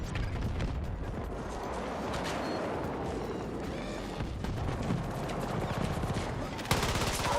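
Sustained gunfire in a Battlefield 2042 match, directed at a deployed sentry gun: dense rapid automatic shots and battle clatter throughout, with a sharper burst near the end.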